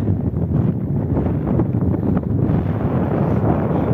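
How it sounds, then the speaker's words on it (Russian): Steady, strong winter wind in Yakutsk buffeting the microphone, a dense low roar with gusty fluctuations throughout and no talking. "Ветер сильный."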